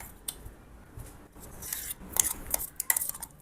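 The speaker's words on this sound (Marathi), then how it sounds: "सगळं व्यवस्थित मिक्स करून घेणार आहे यामध्ये" A spoon scrapes and clinks against a bowl while a bottle gourd vadi mixture with sesame seeds and ground paste is stirred, soft at first and then growing into busier metallic taps.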